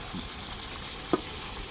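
Injected Albaik-style broast chicken fries in hot oil, a faint steady sizzle with a soft knock near the end. No voices.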